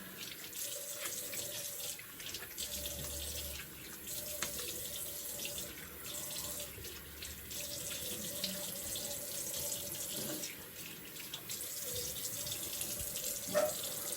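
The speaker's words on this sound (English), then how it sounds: "let's get this washed off." A tap runs into a sink at a steady, moderate level for about fourteen seconds while someone rinses off after shaving, with faint splashing and no speech.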